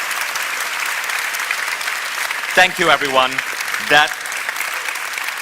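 A live audience at a Mindvalley University fireside chat session keeps up steady applause for a speaker, while someone briefly speaks over the clapping partway through.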